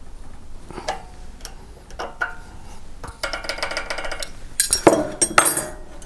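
A 12-point box wrench tightens a valve adjuster on a Forte FG 3500 generator engine, giving a few sharp metallic clicks and clinks, close and fairly quiet, with a denser burst of ringing metal contact toward the end.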